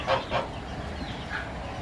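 Two quick honking calls from geese, fairly faint, followed by a softer call against a steady outdoor background.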